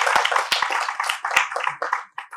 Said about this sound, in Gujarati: આપણે ખૂબ તાળીઓથી અભિવાદન કરીશું.